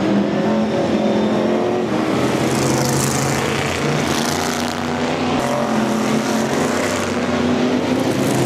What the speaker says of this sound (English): It doesn't take long for the cars to get up to speed.